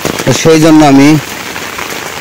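Heavy downpour drumming steadily on outdoor surfaces, a continuous hiss that runs under a voice speaking close by for most of the clip.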